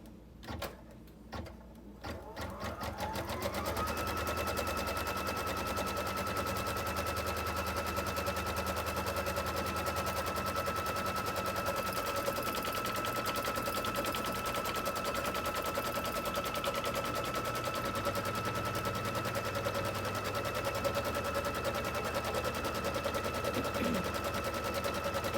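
A computerized embroidery sewing machine stitches steadily and continuously in a fast mechanical patter after a short start-up, running alone at close range with no voices.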